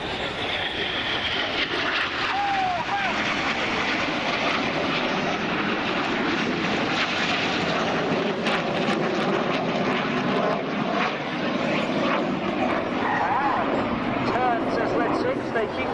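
RAF Red Arrows jets fly opposition barrel rolls low over the sea at an air show in Portrush, a loud continuous roaring engine wash with a commentator talking over it.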